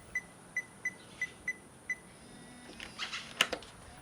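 Keypad of a Eufy Smart Lock E330 being pressed to unlock a door: six quiet, evenly spaced electronic beeps, followed by a brief whirring and clicking of the lock mechanism.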